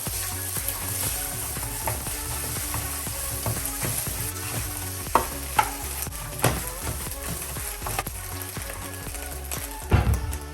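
Chicken fried rice stir-fried and broken apart with a spatula in a hot pan, a steady close sizzle under repeated scraping and stirring strokes, with a few sharp metallic clanks near the end.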